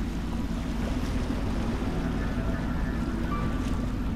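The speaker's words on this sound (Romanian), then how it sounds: "Nu prea-mi place să merg cu barca." A boat glides across water in the video game Dishonored, with a steady low engine rumble and washing water that run continuously and alone for several seconds.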